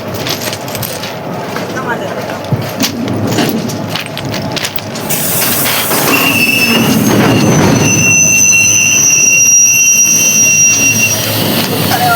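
A train rushes past, its roar swelling loud after quiet talk, with high metallic squeals of wheels ringing over the steady rumble.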